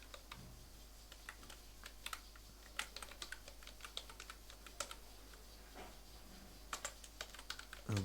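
Steady typing on a computer keyboard while entering text in CorelDraw 2020, a run of quick, light key clicks, fairly close and quiet, with no talking.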